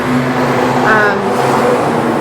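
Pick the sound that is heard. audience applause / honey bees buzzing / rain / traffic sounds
traffic sounds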